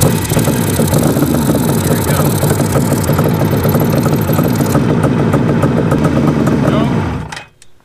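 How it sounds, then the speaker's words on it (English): Barn-find Suzuki GT550 two-stroke triple motorcycle, first start in ten years, runs loud and close at a steady rough idle with uneven two-stroke knocking, then cuts out abruptly near the end. "Now let's start the bike back up and see if oil comes out of this banjo"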